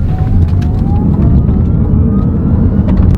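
A Honda e:Ny1 electric SUV accelerates hard in sport mode: a faint electric motor whine climbs steadily in pitch above loud, continuous low road and tyre rumble, heard from inside the cabin with no talking.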